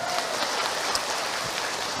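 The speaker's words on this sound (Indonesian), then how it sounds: "Tepuk tangan biar Bunda semangat" Faint, even patter of audience applause at an Islamic lecture, a soft rain-like wash of clapping lasting about two seconds.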